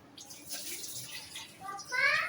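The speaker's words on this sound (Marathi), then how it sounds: "हे धुवून घेतो थांबा, तांदूळ वगैरे धुवून घेतो आधी." Rice being washed by hand in water in a home kitchen, with splashing and swishing that swells louder near the end of a short moment, amid faint household background.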